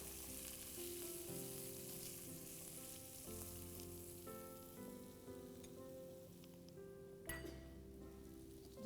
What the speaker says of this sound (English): Add the kadai masala, saute.